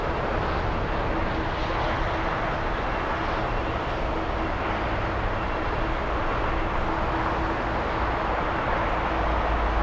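A Delta airliner takes off at LAX with a steady, loud, broadband engine roar that holds constant throughout, heard from a distance with no voices.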